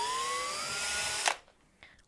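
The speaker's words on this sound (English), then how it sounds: "he's going to drill a hole" Power drill whirring steadily as it bores a hole in wood for a toy tractor, the pitch climbing slightly before the bit breaks through and the motor cuts off abruptly, leaving faint handling clicks.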